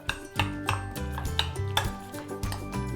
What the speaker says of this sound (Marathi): मीठ चवीप्रमाणे, कोथिंबीर आणि हे व्यवस्थित सगळं मिक्स करून घ्यायचं आहे